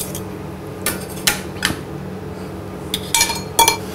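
Roast duck bones being dropped into the metal basket of a duck press, giving a few sharp clinks and rattles of bone against metal over a quiet kitchen hum.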